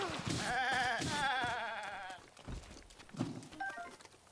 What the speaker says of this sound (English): I just skateboarded that goat to death.